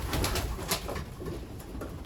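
Racing pigeons coo inside a loft, soft repeated throaty coos and faint rustling close by, several birds overlapping in irregular bursts with no talk.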